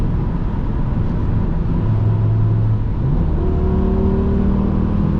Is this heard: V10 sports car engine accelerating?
yes